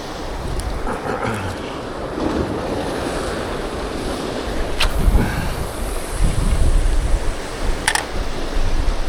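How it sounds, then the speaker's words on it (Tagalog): Strong wind gusting over the mic at a fishing spot by the sea, a steady roar with surf washing beneath it, close and loud throughout without speech. "Yung hangin ang gagaling sa likod natin, so okay yan."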